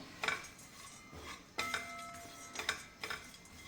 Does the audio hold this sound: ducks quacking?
no